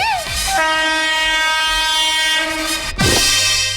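An arriving train at a station sounds its horn up close in a long, loud, sustained blast, broken briefly near the end before a second strong blast begins.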